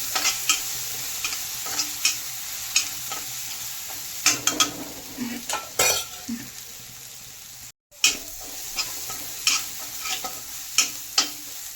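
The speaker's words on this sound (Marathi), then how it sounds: "तर आता मी इथे हिरवी मिरची, लसणची पेस्ट, अशी थोडासा चटणी टाकून दिलेली आहे. छान अशी परतून घ्यायची." Green chili and garlic paste frying in oil in a pan gives off a continuous sizzle, with frequent scraping strokes from stirring and one brief silent gap.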